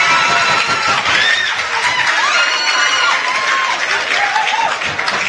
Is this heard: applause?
yes